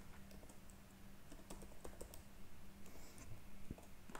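Quiet, steady typing on a computer keyboard while HTML code is entered, with irregular key clicks and occasional sharper taps over a soft room hiss.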